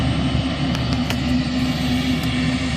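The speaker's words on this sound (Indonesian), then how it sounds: "It looks like the sheriff's department sent a helicopter out" A sheriff's department helicopter flying overhead during a forest camping outing, a steady loud rotor and engine drone holding constant throughout, with no voices.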